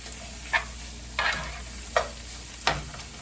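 Drained sausage is stirred back into a pan for a gluten-free sausage and rice casserole, with four separate scraping strokes spaced about a second apart over a faint, steady background hum.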